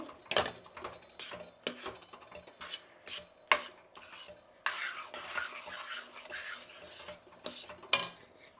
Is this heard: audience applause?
no